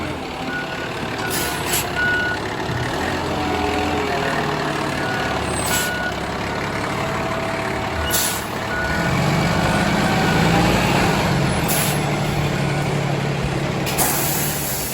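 A concrete pump truck arrives at a basement construction site, its reversing alarm beeping repeatedly and steadily. A diesel engine rumbles underneath, with short bursts of air-brake hiss.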